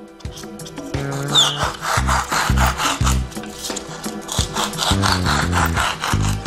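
Rhythmic back-and-forth cutting strokes through a polyethylene foam block, steady and close, with background music playing underneath.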